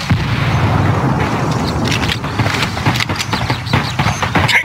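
A grenade explodes in a first-person shooter video game, a loud sustained booming blast with rumbling debris and scattered sharp crackles that fade unevenly.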